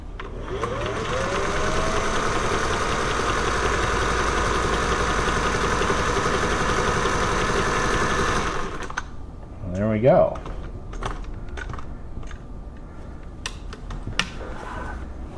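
A Singer 401A sewing machine runs steadily, stitching an alternating zigzag with a fast, even mechanical whir for about eight seconds, then stops, leaving a few clicks and handling knocks.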